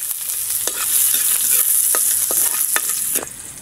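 Garlic sautéing in hot cooking oil for a mechado, a steady close sizzle with sharp scattered crackles and pops running the whole time, no talking.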